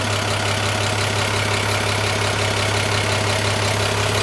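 A diesel engine runs on a test tank, a steady, dense mechanical drone with a low hum and rapid knocking texture, constant and loud with no voices over it.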